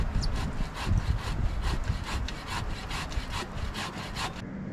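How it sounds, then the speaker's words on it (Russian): A sharp handsaw cuts through a wooden log outdoors, producing a steady, close rhythm of roughly a dozen rasping back-and-forth strokes with no one talking. "Шикарная ножовочка. Ну, не знаю, насколько хватит заточки, но пока пилит замечательно."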